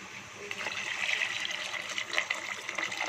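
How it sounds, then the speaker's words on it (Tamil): A steady stream of water pours and splashes into a pan of cooked masala for vada curry, continuous and fairly close for the whole stretch, with no talking. "இப்போ நம்ம தண்ணி ஊற்றிக்கலாம்"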